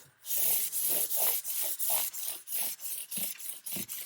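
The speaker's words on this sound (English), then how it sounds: "You're just lightly going over that, sanding over them." Light sandpaper strokes scrape back and forth across guitar frets in a quick, even rhythm, close up and alone with no voices.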